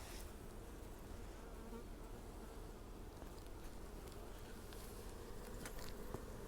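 A steady, close drone of many honey bees from a nucleus colony buzzing together, constant and unbroken throughout.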